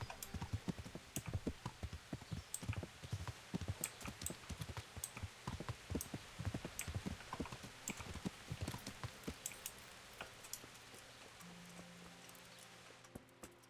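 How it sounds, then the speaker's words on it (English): Horse hooves clip-clop at a gallop in the video game Kingdom Come: Deliverance, a steady, fast run of sharp hoof beats close up, fading toward the end. "gallop on down there with my ultra low graphics horse"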